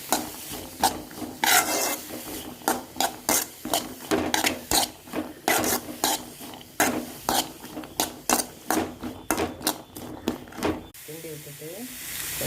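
Chopped beetroot sautéing in oil in a pan, heard as repeated rhythmic scraping and stirring strokes over a faint sizzle, with a short voice near the end.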